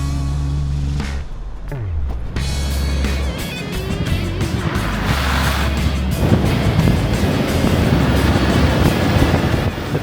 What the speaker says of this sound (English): Prado Unhitched was great to drive on the beach and never got close to getting caught up in the soft sand.